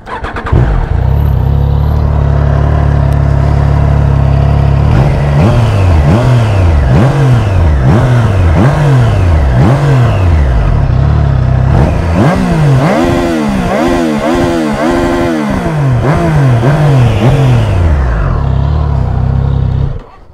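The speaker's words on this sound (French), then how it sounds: "Alors on va démarrer." A Triumph Trident 660 motorcycle starts up and is revved hard. The engine drones loud and close while its pitch repeatedly sweeps up and falls back in rapid throttle blips, with no talking over it.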